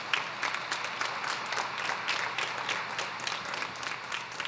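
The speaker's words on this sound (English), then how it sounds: "yes, you can applaud for yourselves." Concert audience at the Pinellas All-County Elementary Concert applauds itself, a steady roll of clapping from a large crowd in an auditorium, continuous and fairly close, without speech.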